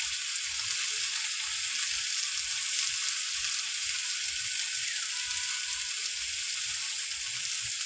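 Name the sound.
frying papaya and greens with salt and turmeric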